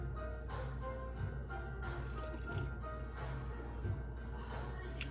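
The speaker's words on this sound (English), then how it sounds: "I'm going to rinse the bottles because I don't like the milk to sit in for too long, and start soaking those" Faint running water trickles and splashes in a sink while baby bottles are rinsed, with soft intermittent drips and splashes recurring under quiet background noise.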